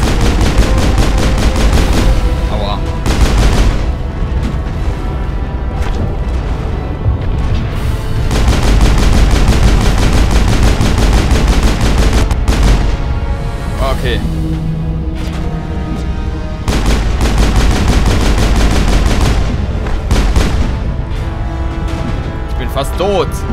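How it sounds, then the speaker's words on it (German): Gun turrets fire in the video game Mass Effect, with loud, nearly continuous bursts of rapid gunfire and booming impacts throughout, and a voice talking over the shooting. "Oh Gott, die Geschütztürme, ne?"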